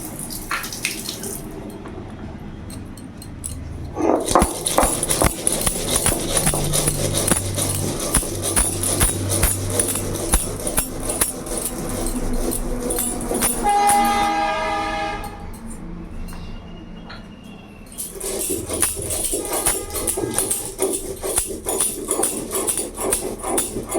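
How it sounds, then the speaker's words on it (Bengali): White mustard seeds, green chillies and cumin being ground into paste on a stone grinding slab: a rough, steady rolling scrape that runs close and fairly loud for most of the stretch, with no talking. "তো ভালো করে আমি বেটে নেবো।"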